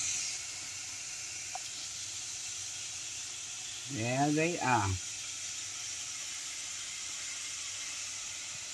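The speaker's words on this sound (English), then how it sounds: "And I got a few pieces still frying in here." Chicken pieces fry in oil with a steady, soft hiss and bubbling sizzle throughout. A person speaks briefly in the middle over the constant frying.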